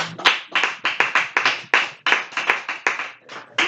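A church congregation claps in fast, uneven bursts of applause for Jesus, loud and close, the sharp hand claps crowding together with no speech over them.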